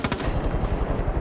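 A helicopter-mounted machine gun in the video game Far Cry 5 fires a rapid, continuous burst, close and sharp, lasting about a second with no talk over it.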